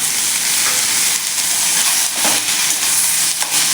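Onion and tomatoes fry in a pan, giving a loud, steady, close sizzle with a broad hiss that holds throughout and softly swells and dips.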